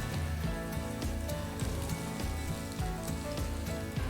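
Tomatoes sizzling in a hot pan for a zucchini noodle dish, a steady close crackle and hiss with a rhythmic tapping running through it, with no voices.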